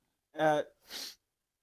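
A single close sneeze during a casual chat: a short voiced intake followed by a breathy, hissing burst, heard on its own with no talking over it.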